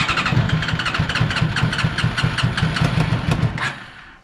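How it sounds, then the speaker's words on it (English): A Honda CBR 600 engine fitted in a jet boat cranks rapidly on its starter motor, a loud, close, steady chugging pulse that runs for about three and a half seconds before cutting off. "Whoever made this starter motor needs a pay rise, man. This thing cranks fast."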